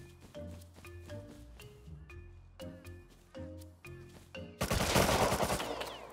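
Video game gunfire: a burst of loud, dense, noisy shots near the end, after a stretch of tonal music-like game sounds with sharp, plucked hits.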